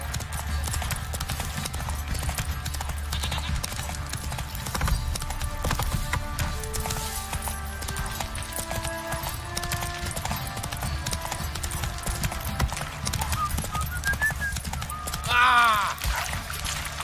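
Roach, the horse in The Witcher 3, gallops with a steady drumming of hooves over a constant low ambience, a brief whinny near the end.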